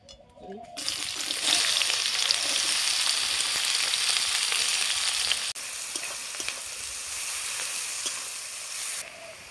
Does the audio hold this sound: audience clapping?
no